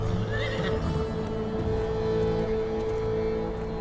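A mare whinnies loudly and clearly, with hooves clip-clopping underneath, close by against a steady background hum.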